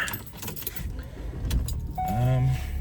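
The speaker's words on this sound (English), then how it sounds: "so I'm gonna turn the car on" Keys jangle close by as a car is started, rattling clicks giving way to a rising whine and the engine catching near the end, with some voice in the background.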